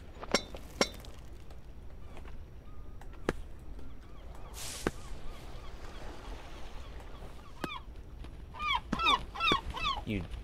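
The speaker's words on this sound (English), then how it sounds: "I hate these birds so much" Birds in a climbing video game honk and squawk repeatedly, with a cluster of rapid calls near the end, over steady background sound and sharp intermittent clicks, with speech present.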